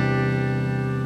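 Sustained, ringing guitar chord played by finger picking, close and steady for about a second, with no talking.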